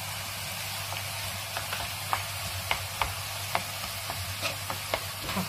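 Onion with salt and chicken frying in a pan, a steady soft sizzle under a low hum with small crackles and stir clicks scattered through.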